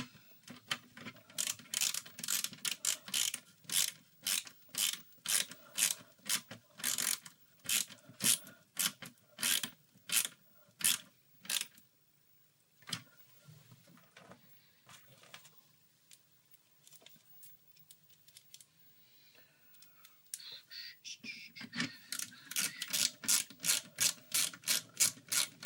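Silver screws are driven into the cartridge slot of a 1Chip PAL SNES, producing rapid rhythmic ratcheting clicks from a screwdriver in close bursts, then a quieter pause before the clicking resumes.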